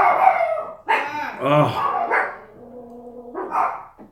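Dogs bark in a home in short, loud, close bursts, one barking and howling in a strained, excited run, with a person briefly speaking among them.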